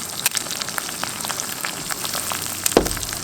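Eggs frying on an Ozark Trail or Coleman Peak 1 single-burner camp stove, a steady close crackling sizzle with scattered pops and one sharper tick near the end, no talk.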